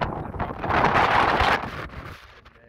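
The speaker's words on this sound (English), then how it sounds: "As you can probably hear, that wind is still in the high down." Strong wind buffeting the microphone on a beach walk across the dunes, a loud roaring gust that swells for about a second and a half then eases off.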